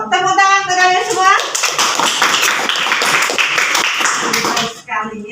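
Schoolchildren clap together in a classroom, a brief burst of rhythmic applause following a voice, with more voices speaking at the start and end.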